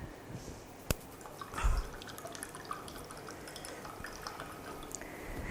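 Water is emptied from a glass density bottle in a chemistry lab, a faint trickle with a few soft drips and one sharp tap, low and close against a quiet background.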